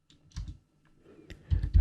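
Keystrokes on a computer keyboard while an SSH login command is typed, two short bursts of close, clicky taps separated by a quiet pause.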